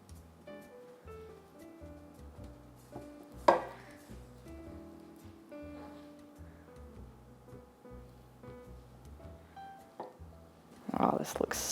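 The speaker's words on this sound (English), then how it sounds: "We'll just cut a little slice." A knife slices through a frozen, plant-based vegan chocolate cheesecake with no refined sugar, giving a sharp cut near the middle and a rougher scrape at the end, set against steady background music.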